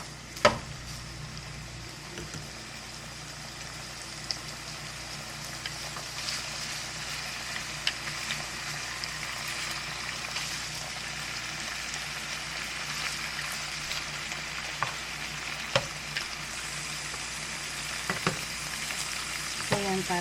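Ground meat fries in a pan that was just used for frying something else. A steady, moderate sizzle runs throughout, with occasional sharp clicks of a utensil against the pan.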